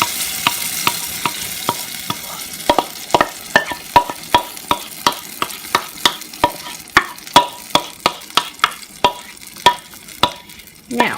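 Fresh tomatoes are stirred in a sizzling pan, a spoon scraping and clacking in a steady rhythm of close, crisp strokes over the constant fry.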